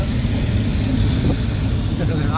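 A tractor engine on the Mumbai-Goa highway gives a steady, dense low rumble with broadband road noise, continuous and fairly loud throughout.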